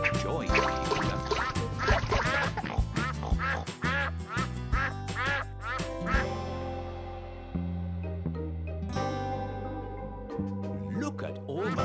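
Cartoon ducks on a pond in the Peppa Pig Wii game quack repeatedly in quick bursts over bouncy background music, close and loud, with no talking.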